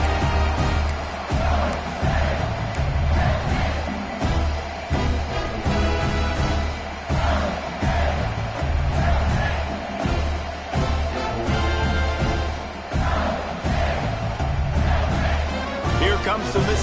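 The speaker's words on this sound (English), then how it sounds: "that last score took a little oomph out of this crowd" A college football stadium crowd at a Mississippi State game makes a steady, dense roar throughout, with no clear peaks of cheering, as a commentator talks over it.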